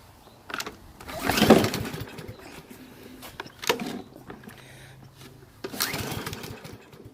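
A cheap lawn mower is pulled repeatedly in attempts to start it: several separate rasping recoil pulls, each giving a short sputter, but the engine never catches.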